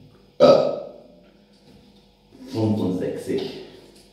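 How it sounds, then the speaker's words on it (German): A man burps loudly as part of a long counted series of burps, one sharp, deep belch followed by a quieter pause and then a longer, rumbling burp that trails off. "So, 65 Rülpser geschafft oder 35 fehlen noch?"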